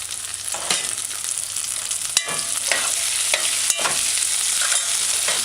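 Sweet potato sautéing in a pan on a stovetop set to medium heat makes a continuous close sizzle, with utensil scrapes and clicks recurring every second or so, and no talking.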